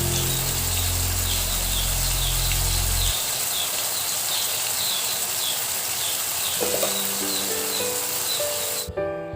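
Tomatoes and spices sizzle in a pan for Assamese-style macaroni, a steady hissing fry that drops back after a few seconds to a softer crackle, with a clink near the end.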